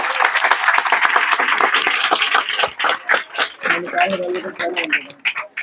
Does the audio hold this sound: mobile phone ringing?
no